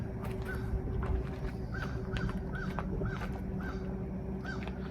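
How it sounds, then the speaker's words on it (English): A bird gives a series of short, repeated cawing calls at a moderate distance over a steady background drone. "You hear that bird?"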